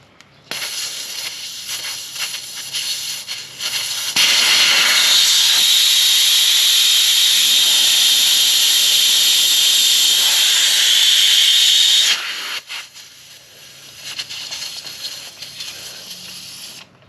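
Air hisses loudly and steadily from a KTM 1290 Super Adventure motorcycle tyre as the valve core is removed, a close rushing burst of several seconds framed by softer tool clicks and handling.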